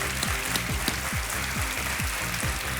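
Studio audience claps on the Kaun Banega Crorepati Season 10 game show after a correct answer: a dense, steady wash of applause with a repeating low, swooping tone pulsing beneath it.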